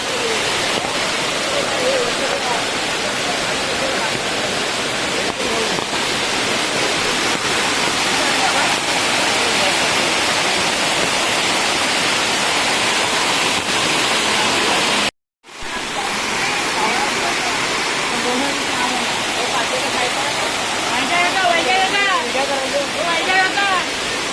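Loud, continuous rush of a rain-swollen stream pouring and churning after heavy rain, a steady roar broken only by a brief cut partway through.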